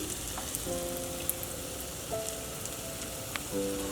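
Battered pumpkin flower fritters frying in hot oil make a steady, crackling sizzle with a rain-like hiss throughout. Faint tonal sounds come and go over it.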